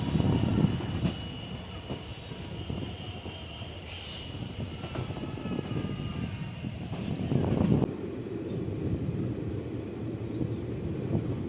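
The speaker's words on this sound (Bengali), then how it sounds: "ট্রেনটা আস্তে আস্তে প্রবেশ করছে।" The Hazarduari Express rolls slowly into Krishnanagar junction, its wheels rumbling and clattering on the rails with a brief high squeal and periodic rhythmic thumps, heard from on board.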